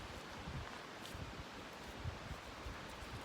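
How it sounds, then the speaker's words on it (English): Wind blowing outdoors, a faint steady broadband rush with soft low gusty buffeting against the microphone, continuous and without talk. "So it's a little windy today."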